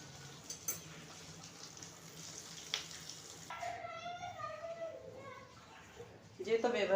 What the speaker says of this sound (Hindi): इसी तरह हम अपने तमाम शामे को फ्राई कर लेंगे।